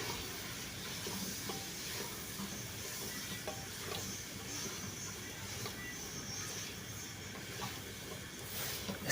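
Browned chicken frying with masala and tomatoes in a pan, a faint, steady hiss and sizzle with occasional soft spoon strokes, no talk.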